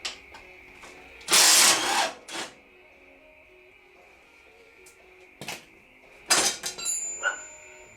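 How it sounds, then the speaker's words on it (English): An impact wrench on a race mower gives short, loud rattling bursts with quiet gaps between them, over a faint steady hum. "A little bit of rattle gun and action."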